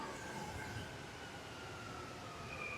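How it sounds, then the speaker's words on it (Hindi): A train rumbles steadily with broadband rail noise and a faint high whine, sounding like a metro train pulling into a station. "आ गए भाई, टाइम पे आ गए मेट्रो।"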